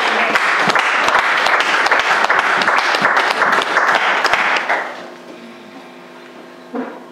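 A church congregation at a French-language evangelical service bursts into loud, dense applause that carries on for nearly five seconds, then drops off abruptly, leaving a quieter room with a brief stray sound near the end.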